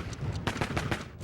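A rapid burst of sharp revolver gunshots, six cracks in quick succession over about two seconds, loud and close with no voices.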